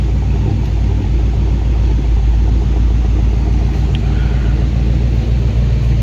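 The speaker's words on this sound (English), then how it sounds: "Listen to the exhaust." A 1971 International Travelall 1210, revived after 22 years of sitting, idles with a deep, steady exhaust rumble, loud and close, throbbing evenly throughout with no talking.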